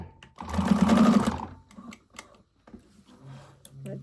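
A sewing machine stitching fabric runs in one steady, loud burst of about a second, then stops, followed by soft handling clicks and a brief voice near the end.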